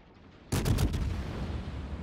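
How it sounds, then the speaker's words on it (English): Naval gunfire in the World of Warships video game, with ships trading shells in battle: a sudden heavy boom followed by a rumbling, rolling burst of cannon fire that carries on steadily. "He is getting shot at from multiple sources"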